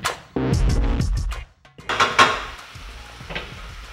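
A quinoa pilau mixture with black pepper stirred in a frying pan: close clattering scrapes and knocks of a utensil against the pan in short bursts, with pauses between.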